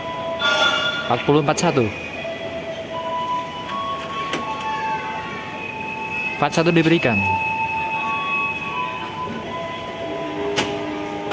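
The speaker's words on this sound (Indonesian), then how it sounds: "kereta Motis Nataru berangkat Lempuyangan tujuan Jakarta" A Motis Nataru economy train departs Lempuyangan station for Jakarta, with rumbling rail noise, two short bursts of horn or brake sound, and a public-address voice speaking over the station.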